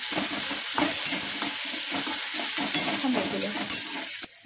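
Chopped tomatoes frying for Maggi in a pan give a steady, close sizzle, with repeated stirring scrapes through it and no talk.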